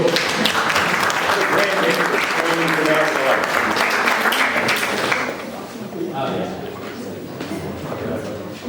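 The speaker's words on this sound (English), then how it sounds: "round of applause" Loud, dense audience applause greets a real estate agent called up to speak at an evening event, sustained for about five seconds before dropping to quieter scattered sound with a voice underneath.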